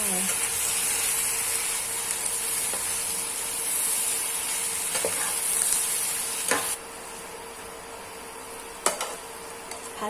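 Noodles stir-fried in a pan with oyster sauce, sugar and salt, giving a steady close sizzle and hiss with scraping stir strokes, quieting partway through with a few sharp clatters afterward.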